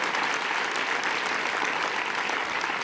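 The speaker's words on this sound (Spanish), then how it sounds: "Un aplauso también para ellos" Steady, dense applause from a packed crowd at a Spanish Socialist political rally with Pedro Sánchez in Salamanca, continuous and loud throughout without a break.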